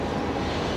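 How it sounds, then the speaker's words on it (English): A Qatar Airways Boeing 777 on short final into Brisbane, a steady rushing engine roar at moderate distance, continuous and unbroken through the brief moment. "on short final, the 777 coming in"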